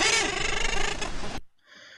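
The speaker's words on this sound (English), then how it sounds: "For example, we have the crow sound." Common murre crow call: a harsh, buzzy, rasping bird call, close and loud for about a second and a half, then a fainter echo-like trailing call.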